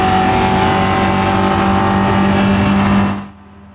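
A Cupra race car engine roars loud and steady as it accelerates along a track straight, a sustained close drone with a strong tonal whine that cuts off abruptly near the end.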